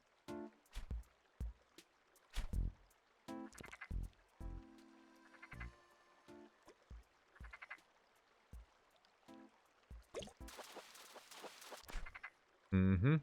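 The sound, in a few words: frog croaking in a video game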